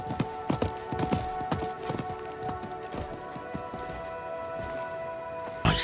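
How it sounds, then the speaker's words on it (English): Galloping horse hooves in the Diablo IV video game, a steady clip-clop rhythm of hoofbeats over ambient game sound, gradually fading as the horse moves away. "I think that was the merchant's horse."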